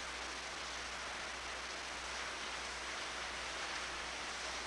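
Steady, faint rain hisses evenly, a soft continuous wash of falling drops with no other sounds.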